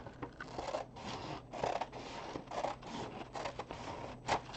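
Scissors cutting paper for a classroom paper quilt, a quiet close series of short crisp snips and rustles in an uneven rhythm, with no talking.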